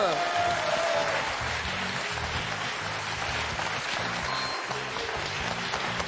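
Studio audience applause on a French TV quiz show, a dense steady wash of many hands clapping that fills the room evenly and continues without a break.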